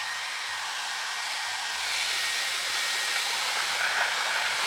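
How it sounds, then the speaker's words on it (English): A blow dryer runs steadily while drying hair, a loud continuous airy whoosh with a slight shift in pitch partway through. "We're going to go in with our blow dryer and we're going to dry this down."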